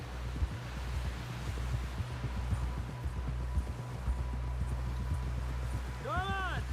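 Horse hooves clip-clop in a steady riding rhythm, loud and close, in Red Dead Redemption 2, with a continuous low hum beneath and a brief rising tonal sound near the end.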